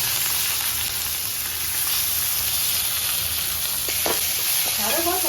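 Dried red chilies, garlic and onion fry in hot oil with a loud, steady hiss and crackle, close up, with a few brief utensil or kitchen noises toward the end.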